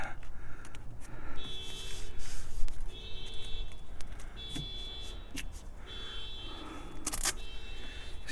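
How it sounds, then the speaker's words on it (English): A parked car's alarm sounds outdoors, repeating a chirping, buzzing pattern in regular bursts roughly every one and a half seconds, over background noise and occasional clatter. "somebody's alarm going off"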